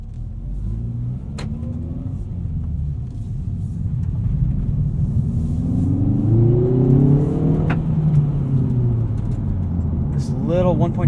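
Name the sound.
2019 Hyundai Veloster Turbo 1.6 liter engine accelerating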